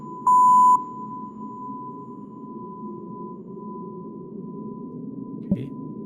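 A phone in the horror video game Fear the Spotlight gives a short loud beep and then a steady electronic dial tone, held over a low background hum.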